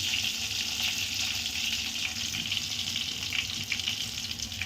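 Garlic frying in a pan for a bitter gourd dish, giving a steady, close hiss and crackle that runs on without a break and carries no voices.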